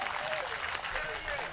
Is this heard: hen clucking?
no